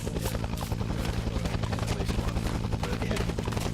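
A helicopter in a Vietnam POW rescue scene gives off a continuous rhythmic rotor thumping, loud and close and steady throughout.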